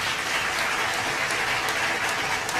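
A crowd at an outdoor poetry event during a culture festival applauds a young poet, a thick, even roar of many clapping hands heard close and steady throughout without speech.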